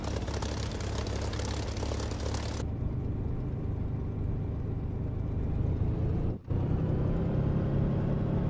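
An aircraft engine in the DCS flight simulator roars loudly and steadily, then its bright upper hiss cuts off abruptly, leaving a lower continuous rumble that briefly drops out near the end.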